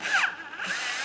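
A power drill briefly runs, tightening the mounting bolts on an outer tail light assembly of a 2011-2020 Toyota Sienna; a short whirring burst up close in a workshop, with no talking.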